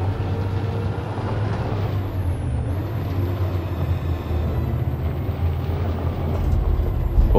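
Truck engine in Detroit: Become Human pulling forward with a steady, loud low rumble and broadband road roar, building slightly toward the end, no voices.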